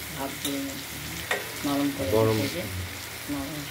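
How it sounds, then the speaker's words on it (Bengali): Stuffed ash gourd slices frying in oil, a loud steady sizzle with stirring clinks, with speech-like tonal bursts on top in places. "এগুলোকে তেলে ভেজে নাও।"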